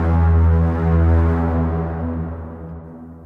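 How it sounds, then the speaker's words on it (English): A huge cinematic braam horn synthesized in UVI Falcon, the loud brassy honk of movie trailers, sustained as one dense, swelling low blast that slowly fades over a few seconds with no voices. "those really loud kind of honking horns that you hear in movie trailers."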